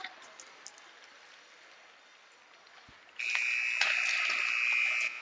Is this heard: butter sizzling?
no